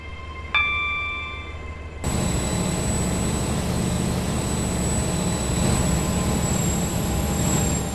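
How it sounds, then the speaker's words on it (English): Train pulling into a station platform in the Stepford County Railway video game: a short chime, then a steady loud rumble of rolling wheels with a high whine running over it, continuous to the end. "The train now approaching platform 3 terminates here."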